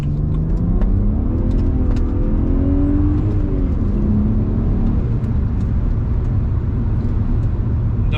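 Hard acceleration in a BMW 135i with a manual gearbox, heard from inside as a loud steady engine drone rising in pitch through one long pull, then settling, with no talking.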